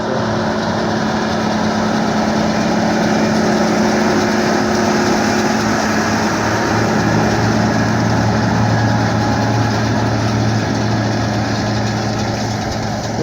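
A Case 770 tractor pulls a hay rake in a field, its engine a loud, steady close droning rumble with a constant low hum throughout and no talk.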